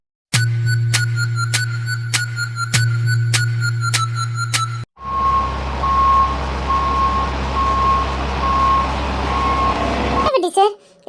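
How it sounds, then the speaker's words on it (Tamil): A lorry arriving in an animated cartoon scene, with a loud, evenly spaced reversing beep repeating for several seconds, then a long engine rumble with a steady tone. "வட்டி சார், லாரி வந்து நிக்குது."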